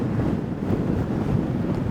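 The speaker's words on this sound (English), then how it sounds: "the wind will die off to nothing and then it'll be a 30-knot gust again" Strong wind buffeting the microphone in open, empty country beside a lonely highway, a steady loud roar of low rumble with no break across the whole stretch and no voices.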